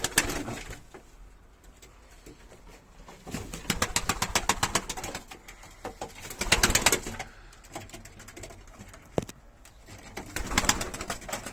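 Domestic pigeons coo in repeated throaty calls, close and fairly loud, with bursts of wing flapping and shuffling between the phrases. No one speaks.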